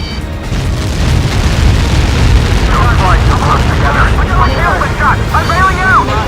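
Missile blast in the Ace Combat 7 air-combat level over the Lighthouse, a heavy sustained rumbling boom layered with jet engine roar, loud and close, with warbling radio-like tones and voices chattering over it.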